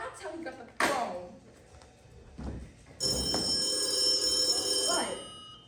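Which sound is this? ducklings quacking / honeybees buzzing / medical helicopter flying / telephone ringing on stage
telephone ringing on stage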